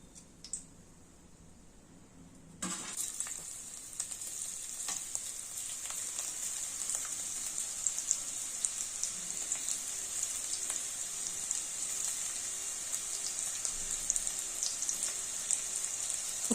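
Bitter gourd chips dropped into hot oil, a quiet start giving way to a sudden, sustained close-up sizzle and crackle with scattered small pops, steady in loudness to the end.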